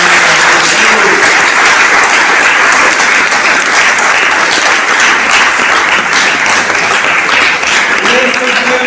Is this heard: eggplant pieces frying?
no